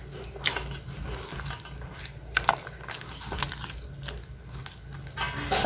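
A thick sweet potato mixture being stirred in a pot, giving soft, irregular scrapes and sticky squelches with occasional knocks of the utensil, close but fairly quiet.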